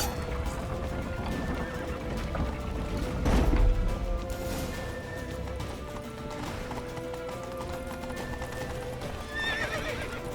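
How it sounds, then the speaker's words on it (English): Horse hooves clip-clop at a gallop in The Witcher 3, with whinnies and neighs over a steady game soundtrack, a heavier impact near the middle and continuous movement throughout. "Grab a horse to the temple!"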